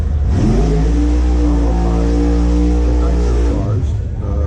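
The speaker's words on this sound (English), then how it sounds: "People can hear they can hear the alcohol cars in the background." Alcohol-fuelled drag racing cars rev loudly in the background during Pro Stock qualifying at the 2022 NHRA Spring Nationals, a steady, sustained engine roar with a rising harmonic tone, with people talking over it.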